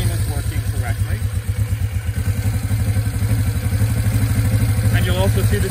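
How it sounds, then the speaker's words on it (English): A 1967 Honda CB450D motorcycle engine starts on its electric starter and settles into a steady, loud, close idle with a rapid, even pulsing beat that runs the whole time. "I'll start it with the electric starter."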